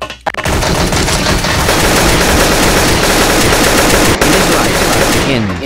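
Sustained machine-gun fire in a prison-break video game, a loud, dense, continuous burst of rapid shots lasting several seconds with only a brief break near the end.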